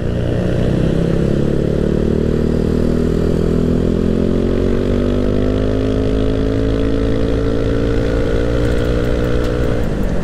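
A Yamaha Aerox scooter with a 200cc bore-up engine accelerates hard, its loud close engine note rising steadily in pitch as it pulls, then easing off near the end.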